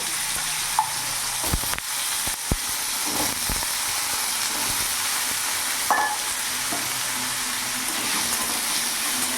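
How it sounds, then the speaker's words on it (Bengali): Small diced potatoes fry in a pan with oil and turmeric, making a continuous sizzle with occasional sharp clatters of stirring utensils against the pan; nobody speaks. "ডুমো ডুমো করে আমি আলু কেটে নিয়েছি ছোটো ছোটো করে ডুমো ডুমো করে এগুলো আমি ভেজে নেব"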